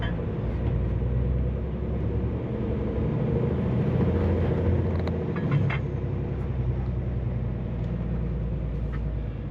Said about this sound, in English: God, I love traffic, ain't you?